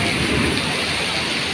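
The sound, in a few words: heavy rain falling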